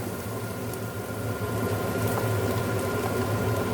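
Steady sizzling and crackling of minced meat and onions frying in a hot pan, continuous and close, with a low background hum and no talking.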